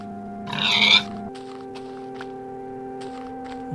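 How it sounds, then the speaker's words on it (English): A pig grunts and squeals in the Minecraft video game as it is killed, one short burst over a steady synthetic background tone and soft game footsteps. "And he starts killing other people's pigs."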